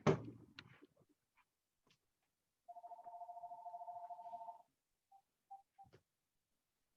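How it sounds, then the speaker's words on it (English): A phone rings with a steady electronic trill lasting about two seconds, followed by a few short beeps, in an otherwise quiet room with some faint clicks. "My phone's ringing on."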